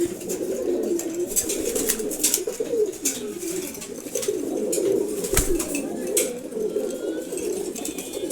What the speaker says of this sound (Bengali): রেড চেকার্ড এটা আমরা দেখাইনি রেড চেকার্ড কবুতর